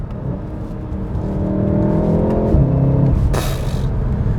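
A VW Golf 7 R Stage 1 accelerating hard through quick dual-clutch gear changes, the engine note climbing, breaking off sharply at each shift, then rising again, loud and close with a burst of exhaust crackle near the end.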